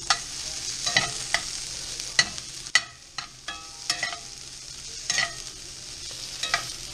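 Onions cooking down in a pan for birria tacos give a soft, steady sizzle, broken by repeated scraping clicks of a utensil stirring them.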